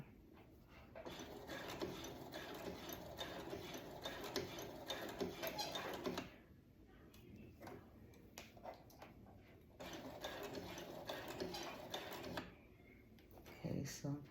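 Brother sewing machine stitching fabric in two long bursts of rapid, close mechanical whirring and clatter separated by a pause, with a short final burst and quiet speech in the background.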